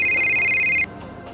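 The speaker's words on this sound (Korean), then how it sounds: "그때 조용한 차량 내에 벨소리가 울렸습니다." A mobile phone ringtone rings inside a quiet car, a loud steady electronic melody of bright sustained tones lasting under a second before cutting off, leaving faint background hiss.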